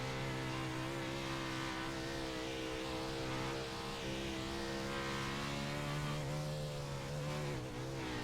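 A race car engine at throttle on the Knoxville dirt track at night, a steady buzzing drone from a distance that holds at full power throughout with slight pitch shifts.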